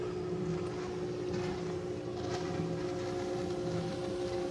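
A tourist boat motor drones steadily nearby on the Pomeroon River, a constant low hum with some wind and water noise, no voices.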